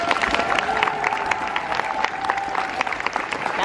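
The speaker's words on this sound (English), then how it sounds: "Clap for them." An indoor crowd at a high-school FIRST LEGO League robotics competition claps steadily with scattered cheers, a dense continuous ovation with a tonal hum running underneath.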